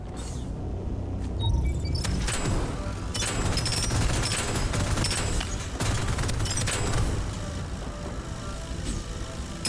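Burst-fire pistol shots in the video game Deadzone Rogue, rapid cracks and booms packed into a loud, busy stretch of combat noise over a steady low rumble.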